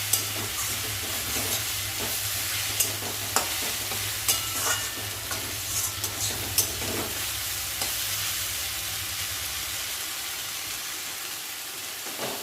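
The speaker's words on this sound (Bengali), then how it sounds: "সামান্য একটু চিনি দেবো শাকের মধ্যে। আবারও নাড়াচাড়া করে নিচ্ছি।" Leafy greens are stir-fried with oil and a pinch of sugar in a pan, giving a soft continuous sizzle broken by scattered scraping and stirring clicks, heard alone without talk.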